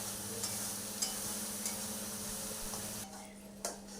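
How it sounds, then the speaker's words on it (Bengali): Spice paste stir-fried slowly in oil for a jackfruit kaliya, giving a steady close sizzle with light scraping and occasional clicks, the frying fading briefly near the end. "মশলাটা এইভাবে অনেকক্ষণ ধরে কষিয়ে কষিয়ে তৈরি করে নিতে হবে"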